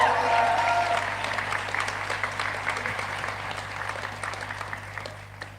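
University graduates at a graduation ceremony applaud and cheer in a large hall, starting with loud whoops over clapping that then thins to scattered claps fading away.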